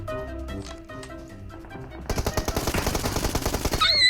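Gunfire rattles in rapid bursts from a distance in the battle royale game PUBG Mobile, a steady crackle of shots over background music and game sounds, with a sharp chirp near the end.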